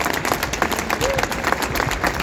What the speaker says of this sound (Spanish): un gran aplauso a los músicos que son los que hacen industria